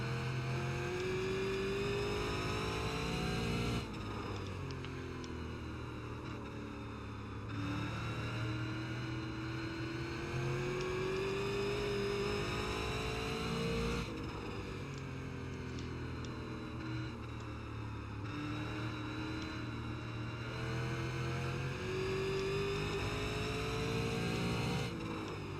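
A Super Late Model race car engine at Stafford in the video game iRacing drones and revs in repeated cycles, climbing under acceleration and dropping off into corners, steady and prominent with no speech.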